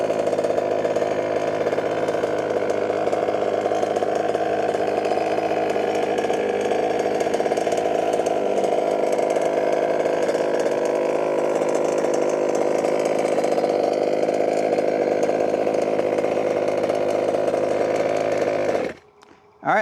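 A 30 Degrees North BWS 5B 1/5-scale gas RC car engine runs at a loud, steady buzzing idle close by for nearly twenty seconds, then cuts off abruptly at the end.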